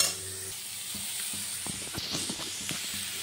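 Fish posto sizzles in a pan as jaggery is added, a continuous frying hiss broken by scraping stirs and soft clattering knocks of a spoon against the pan.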